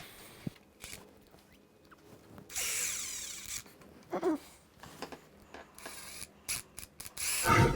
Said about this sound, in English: Replace this plastic peg, put the lid back on, place the screws.